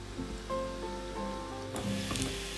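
A chive pocket pie pan-fries under a lid with a faint, steady sizzle and occasional soft crackles, heard close up and with no one talking.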